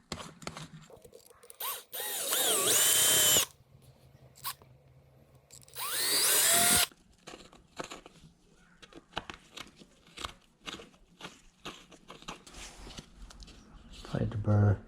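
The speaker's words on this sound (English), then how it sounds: "After you create your pilot hole, toss in your 3/16 bit." A power drill fitted with a 3/16 inch bit widens a pilot hole, whining in two loud bursts of a second or so each, separated and followed by quieter scraping, clicks and handling noises.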